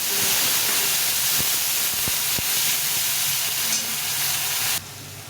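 Kashmiri chili powder frying with a splash of water in a pan, a steady loud sizzle and hiss with faint stirring clicks, dropping off sharply near the end.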